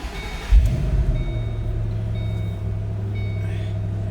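A 2007 Ford Mustang Shelby GT500 convertible engine starts with a sharp crank and catch, then settles into a loud, steady low idle rumble close by.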